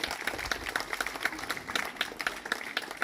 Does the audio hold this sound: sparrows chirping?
no